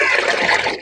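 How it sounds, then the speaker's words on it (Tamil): Liquid plant manure being stirred by hand into about ten litres of water, a steady close sloshing and swirling of liquid that runs continuously for under a second with no voices. "இந்த 10 லிட்டரோட தண்ணியில் நல்லா இப்படி கலக்கிடுங்க."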